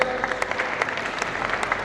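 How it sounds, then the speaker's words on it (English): A crowd applauds prize winners at a college annual fest, a dense, steady wash of many hands clapping close and loud throughout. "Guys, can you have a huge round of applause for the winners?"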